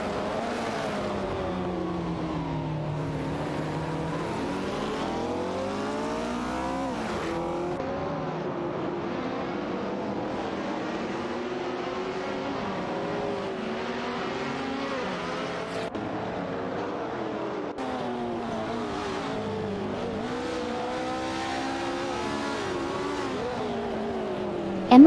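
Race cars in a video game race, engines droning and whining as the pitch rises and falls through gear changes and overtakes, with several cars layered together at a constant loud level.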